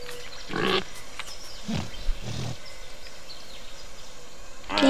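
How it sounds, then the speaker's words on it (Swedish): A small pig-like creature in the game Spore gives a few short grunts and snorts, close and fairly clear, with quiet ambient game sounds between them and no talking. "En liten gris."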